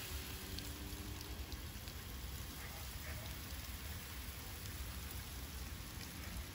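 A water sprayer misting conifer plants in a shade house, a steady fine hiss like light rain that stays even and continuous throughout, fairly faint with no voices.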